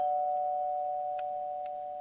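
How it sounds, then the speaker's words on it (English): A doorbell in a dark house gives a sustained electronic ring that fades slowly, with two faint clicks partway through and no voices. "That was definitely a doorbell."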